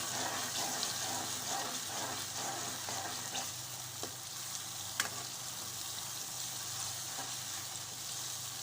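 Garlic and ginger paste fries in ghee with onion for aloo matar, a steady close sizzle with occasional stirring clinks and no talk.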